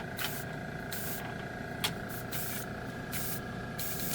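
An airbrush fitted with a spray gun nozzle sprays paint at about 30 psi, a steady hissing spray broken by several louder bursts as the trigger is pulled, close by with no talking.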